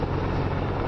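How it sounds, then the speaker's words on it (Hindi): A Mi military attack helicopter passes close and loud, its engine and rotor making a dense, steady roar that fills the whole short moment with no voices. "ये MI हेलीकॉप्टर आप देख रहे हैं, अटैक हेलीकॉप्टर"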